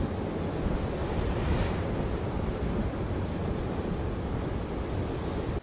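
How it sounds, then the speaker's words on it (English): Heavy surf crashes continuously against a rugged, rocky shore, a dense, roaring wash of waves with gusty wind noise, loud and close throughout. "And heavy waves on the rugged seashore."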